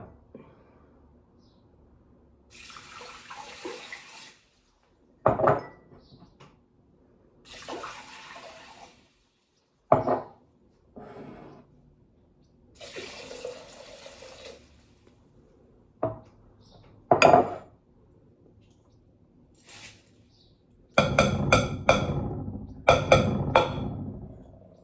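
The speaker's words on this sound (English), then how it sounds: "it's time to add all the ingredients to the slow cooker insert" Elderberry syrup ingredients being poured and dropped into a slow cooker insert, arriving as several separate splashy bursts of water and tumbling solids, close and fairly quiet, with a louder cluster of clattering pours near the end and no talking.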